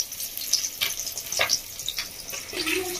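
Bhola fish frying in a pan for a mustard fish curry gives a steady, close hiss with a few light clinks and scrapes scattered through it.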